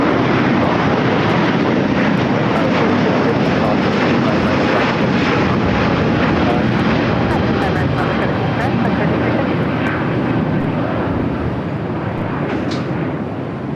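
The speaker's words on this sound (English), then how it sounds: "the Japan Airlines A350 1000 taking off 25 right" A Japan Airlines Airbus A350-1000 taking off at LAX, a loud continuous jet engine roar with broad rumble, heard from a distance with a slight fade near the end and a voice talking over it.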